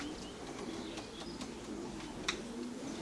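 Racing pigeons at a home loft coo softly in low, rolling calls, with faint chirps and a sharp click over quiet outdoor ambience.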